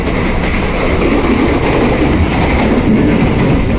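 Inside a KRL INKA commuter train, the connection between carriages rattles and clatters in a loud, continuous rumble with rhythmic wheel clicks, close and without talk.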